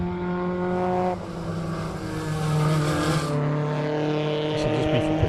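A race car at a circuit roars past with strong harmonic engine drone, pitch shifting as it accelerates and changes gear, loud and close, with other engine noise blending in behind.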